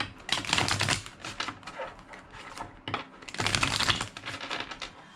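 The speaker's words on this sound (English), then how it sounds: "Two more shuffles." Tarot cards are shuffled close by in two quick riffling bursts with a short pause between them, and no speech over them.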